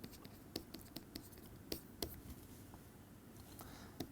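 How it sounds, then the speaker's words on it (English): Chalk or a pen scratches and taps across a board during a physics lecture. The strokes are faint and irregular, with small clicks scattered through a quiet room and no speech. "Let me write psi star of x explicitly."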